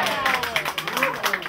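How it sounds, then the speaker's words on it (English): Applause for Gaura Vani Prabhu and his bhajan singers at a temple anniversary gathering: a brisk, crackling run of many hands clapping, with a voice speaking over it. "I'd like to give a big round of applause to His Grace Gaura Vani Prabhu and all his bhajaneers"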